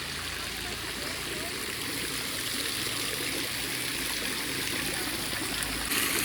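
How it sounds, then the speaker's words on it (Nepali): Cold water rushing steadily from the 108 spouts at the mini Muktinath temple, a loud continuous splashing flow close by with faint voices mixed into the noise. "पानीले गर्दाखेरि मेरो स्वर सुन्नुहुन्न होला तपाईँहरूले"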